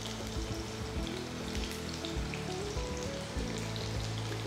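Sliced shallots fry in hot oil for sambar, giving a steady, close crackling sizzle that runs throughout with no talk.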